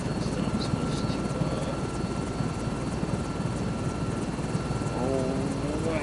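Helicopter engine and rotor in Microsoft Flight Simulator 2024, a steady, close whine with a dense, even rotor drone throughout, and a faint voice briefly near the end.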